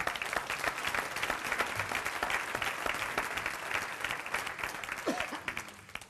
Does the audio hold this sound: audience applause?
yes